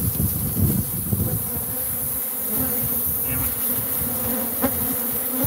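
An angry swarm of defensive bees buzzes loudly and steadily around beekeepers working the hive, a dense close drone with no speech.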